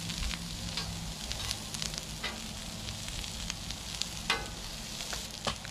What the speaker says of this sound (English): Gotta get these onions all mixed in with the butter.